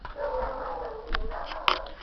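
Several pet dogs bark and whimper indoors in short, uneven bursts at moderate distance, with one sharper yelp near the end.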